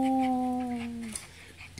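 Airedale Terrier puppies on a porch let out a long, sustained whimpering howl that tapers off, followed by faint rustling and a brief squeak at the end.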